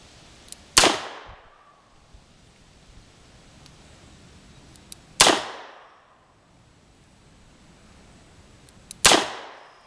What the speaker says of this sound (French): on va tirer 6 fois dans la cible